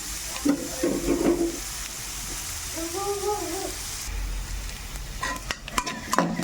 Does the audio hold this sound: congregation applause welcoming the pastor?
no